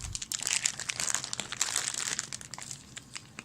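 Plastic resealable bags holding Reaper Bones 4 miniatures are handled up close, giving a steady run of dense, crisp crinkling and rustling with no voices.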